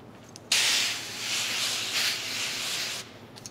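A sharp hissing water spray from a window-tint keg sprayer bursts on and holds for about two and a half seconds, pulsing slightly, then cuts off abruptly.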